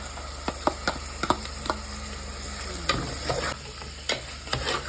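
Ingredients being stirred and mixed into abacha African salad with akede, uwa, fish, uba and onions, a string of scraping, tapping utensil sounds against a bowl, close and irregular.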